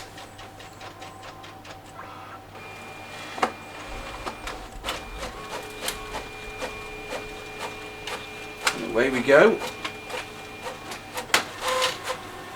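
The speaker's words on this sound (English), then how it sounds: "Press the colour copy button." Brother MFC-J6910DW A3 colour inkjet printer making a fast-mode reduced colour copy: rhythmic mechanical whirring, clicks and paper-feed clatter, a louder churning burst of the print head and rollers near the end, with someone speaking briefly.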